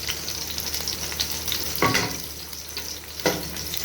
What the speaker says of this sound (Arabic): الثوم والبصل اتشوح